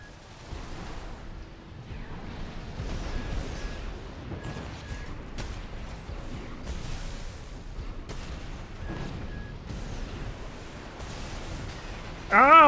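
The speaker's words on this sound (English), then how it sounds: "Ooh, missiles." Missiles launch and explode in rapid succession in the mech combat video game Armored Core 6 during a PvP match, making a continuous rumbling barrage of blasts and thuds that builds to a louder burst at the end.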